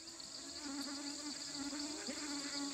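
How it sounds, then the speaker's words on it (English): Swarms of mosquitoes fill the night air in Brazil's wild cat country with a steady, faint, high-pitched buzzing drone that continues without a break. "swarms of mosquitoes take to the dark skies"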